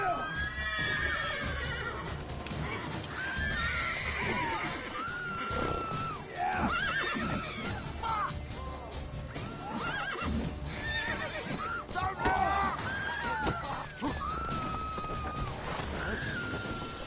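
Horses whinny and neigh repeatedly over steady clip-clopping hooves in The Witcher 3: Wild Hunt, with busy game effects and music filling the background throughout.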